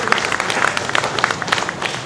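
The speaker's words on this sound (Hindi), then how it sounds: "जोरदार ताली बजा दीजिए आदर्श के लिए।" An audience at a Hindi stage drama performance claps steadily for the play's designer, a dense continuous applause with some crowd murmur and talking mixed in.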